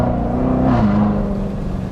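A C7 Corvette Z06 engine under throttle, a loud close drone whose pitch climbs briefly then settles lower, steady and unbroken with no talk.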